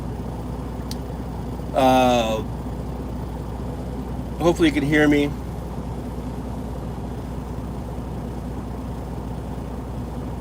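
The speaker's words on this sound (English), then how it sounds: "I got the engine running" A car engine idles steadily in the background, a constant low drone throughout, while someone talks briefly over it in two short bursts.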